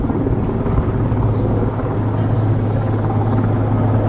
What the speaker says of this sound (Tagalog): At tignan nyo yung helicopter.